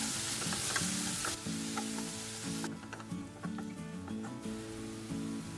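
Shallots with a little salt sautéing in a pan, giving a constant soft sizzle and crackle close up, with occasional stirring clinks over a low humming background and no talking.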